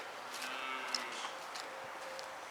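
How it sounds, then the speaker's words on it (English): A cow lowing outdoors in the morning, two or three faint moos at a distance over steady ambient noise, with no talking. "That's the cow that just did woo."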